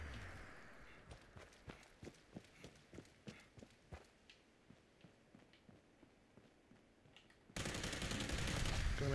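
A Tesla rifle fires at Scorched enemies in the video game Fallout 76, a fairly steady run of about a dozen short, sharp discharges at moderate level, ending in a sudden loud burst of noise.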